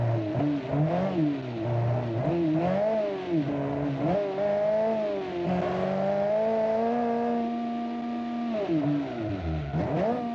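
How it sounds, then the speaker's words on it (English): Engine of the Kiev Motors 10 in BeamNG revs repeatedly up and down, a loud, close, buzzy tone that swings in pitch with each throttle blip and settles into a long sustained high-rpm pull before dropping. "the engine sounds sick at this RPM"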